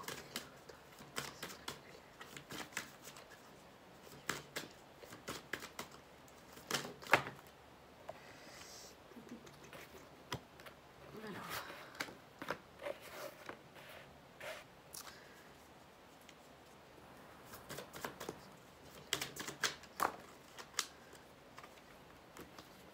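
Tarot cards are shuffled and drawn by hand, giving a long series of soft, irregular riffling and tapping sounds with scattered sharper clicks in a quiet room.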